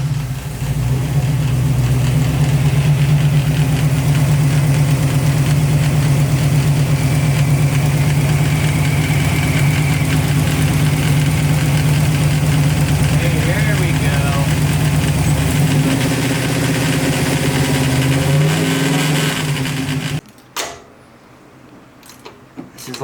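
A Buick Regal engine runs loud and steady at a fast idle for about twenty seconds, its tone shifting near the end before it cuts off abruptly, leaving quiet clanks and handling noise.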